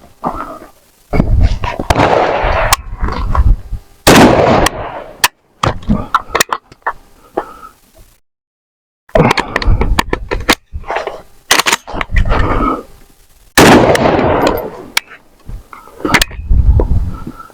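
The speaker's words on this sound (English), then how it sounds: "you'll fire your one round, fire again, make sure you get that audible click" AK-47/AK-103 rifle shots during a combat reload drill: loud, sharp bursts of fire in irregular clusters, separated by brief pauses and one clear silent gap mid-way, with handling noises between strings of shots.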